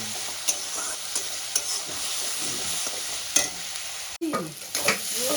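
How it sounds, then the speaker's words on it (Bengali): Onion paste sizzles gently in a hot pan while a spoon stirs it, giving soft scraping strokes and occasional clacks against the pan over a quiet, steady frying hiss. "পেঁয়াজ পেস্টটা আমি দিয়ে দেবো দিয়ে আমি ভালো করে কষাতে থাকবো"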